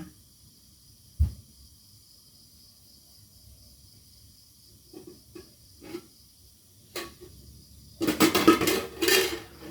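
A metal pan knocks and scrapes a few times in a quiet kitchen, then rattles in a loud clattering burst near the end.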